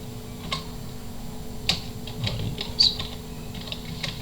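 Keys tapped on a computer keyboard as a command is typed, irregular light clicks scattered over a few seconds, close and fairly soft over a steady low electrical hum, with no voices.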